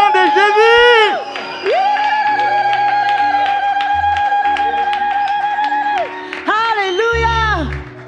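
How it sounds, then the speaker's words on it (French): A church congregation at a praise service shouts and cheers in loud sustained voices, rising whoops and cries at the start and end with a steady held chorus between. "On va pousser des cris de joie, d'acclamation au nom de Jésus."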